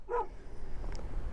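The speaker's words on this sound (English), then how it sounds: "It is a dog." A dog gives a single short bark near the start, followed by quieter low rumbling background noise and faint whine-like tones.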